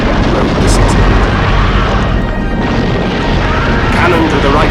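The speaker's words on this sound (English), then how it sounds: "Cannon to the right of them, cannon to the left of them, cannon in front of them volleyed and thundered." Booming cannon-fire effects roll on continuously as loud, dense crashes and rumbles of battlefield artillery. A voice speaks over them.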